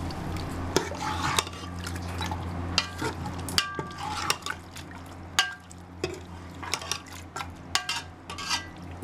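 A spoon scrapes and clinks against a pressure cooker pot in irregular strokes while thick meat and lentil curry sloshes, close by and moderately loud, with no talking.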